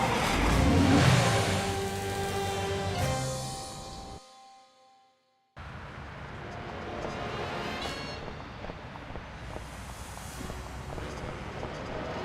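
In the video game Sam & Max, a car engine revs as the car drives off. Loud acceleration fades into a short silence, then a steady driving drone continues alone.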